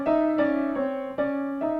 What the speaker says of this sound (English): the most dissonant interval is a flatted ninth.